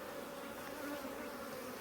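A steady, continuous buzz of honey bees at a hive nuc, including drones, fills the whole stretch, a dense droning hum with no pauses and no voices.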